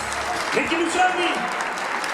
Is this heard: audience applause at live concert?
yes